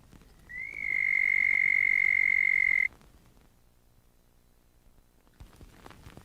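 A burrowing frog gives a single loud, sustained tonal call lasting a couple of seconds, close and clear against quiet background, then stops.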